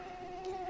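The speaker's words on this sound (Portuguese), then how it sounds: "sou o mosquito palha, sou fêmea e gosto de sangue" A sand fly buzzes in a brief, steady, thin whine close by, with a faint rise in pitch near the end.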